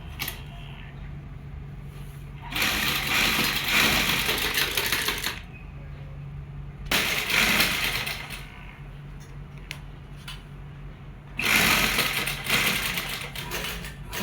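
A sewing machine stitches flower lace onto a kameez in three distinct bursts of rapid mechanical whirring, with quieter pauses between runs and no talking.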